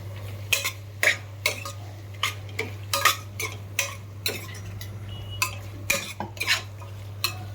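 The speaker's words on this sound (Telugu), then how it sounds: "టమాటా ముక్కలు వేసుకొని ఒక్కసారి బాగా కలుపుకోవాలి దీన్ని." Tomato pieces being stirred into a rice mixture in a pan, with a spoon scraping and clinking against the metal in irregular sharp knocks over a faint steady hum.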